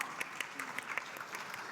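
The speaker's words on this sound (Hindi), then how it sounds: "जोरदार तालियां" Faint applause from a group of women in a film scene, a soft continuous patter with a few louder claps, with speech mixed in.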